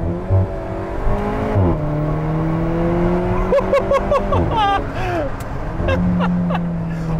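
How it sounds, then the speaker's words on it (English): An Alfa Romeo 4C Spider engine revs and accelerates through several gear changes, its pitch climbing and dropping, heard from close by with a voice faintly underneath. "Now it's time to get it out on the road and see how it drives."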